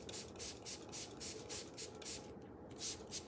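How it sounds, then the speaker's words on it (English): Repeated short hissing sprays from a spray bottle, about two per second in a steady rhythm, close and fairly quiet. "let's spray some water on."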